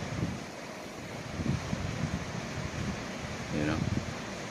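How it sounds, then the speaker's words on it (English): Strong, cold night wind at about 30 miles an hour roars and buffets the microphone with a continuous rumbling rush and low gusts. A brief voice-like sound rises near the end. "At 30-mile-an-hour winds."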